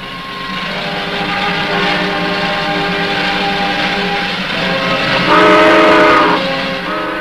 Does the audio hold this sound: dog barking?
no